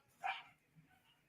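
A single short bark from a dog sounds faintly at a distance indoors, one brief yip-like burst followed by quiet.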